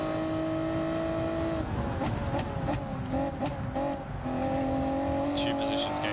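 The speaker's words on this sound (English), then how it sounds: "I can hear anti-lag" Gr.2 race car in Gran Turismo 7 popping and crackling from its anti-lag system over a steady engine whine, with quick sharp bursts mid-clip under a voice talking.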